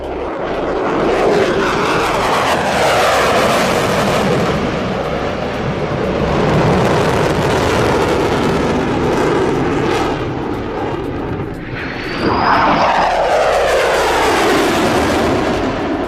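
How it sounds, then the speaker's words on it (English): F-22 Raptor stealth fighter jet engine roaring loudly and continuously, a broad rushing jet noise with a rising whine as the aircraft passes, powerful and sustained throughout. "The F-22 Raptor."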